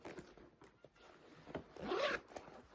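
A Hobo International purse pouch zipper rasps open in one rising, scratchy pull, preceded by a few faint fabric rubs and handling clicks, close and fairly quiet with no talking.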